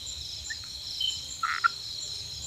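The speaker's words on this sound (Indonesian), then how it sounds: "Itu suara kodok teman." A frog croaks from a tree in a garden at around 11 at night, a few short, close croaks over a constant high drone of night insects.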